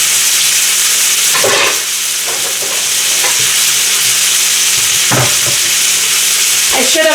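Bites of beef fry in garlic butter in a pan on a stovetop, giving a loud, steady, crackling sizzle throughout, broken by a few clattering stirs of a utensil.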